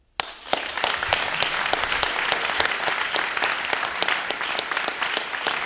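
Audience in a hall at a French debating competition bursts into applause: a sudden start into a dense, sustained wash of many clapping hands, with sharp individual claps standing out throughout and no talking over it.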